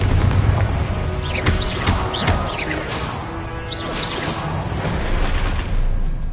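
Confringo fire spell explosions in Hogwarts Legacy, a run of booming blasts and crashing impacts over continuous battle noise, with several sharp whooshing hits in quick succession.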